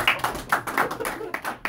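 Audience applause for a comedian at a live comedy show, a short burst of clapping with uneven peaks that rises and dips without building into a full roar.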